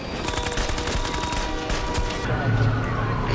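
Gunfire in a scene from the TV series The Outsider: dense, rapid volleys of shots crackle continuously over a few seconds, loud and sustained, with voices faintly mixed in.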